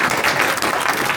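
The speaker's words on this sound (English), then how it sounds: "we'll clap for Mel." A crowd at a political club meeting applauds, a brief, loud, dense burst of many hands clapping at once with no pause.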